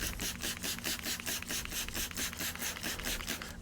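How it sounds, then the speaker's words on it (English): A rubber bumper from Fox Podium shocks on a Wildcat 1000X being scrubbed with Simple Green cleaner, with rapid, even back-and-forth brushing strokes in a steady rhythm, close and continuous with no talk. "I'm going to clean up this bumper while I'm thinking about it."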